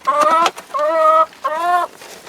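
Chickens in a cold backyard coop give three loud, close clucking calls in quick succession, each a drawn-out squawk with short gaps between.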